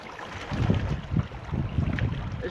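Ocean waves wash in and surge in soft, uneven swells, fairly quiet and mixed with a little wind noise, with no talk.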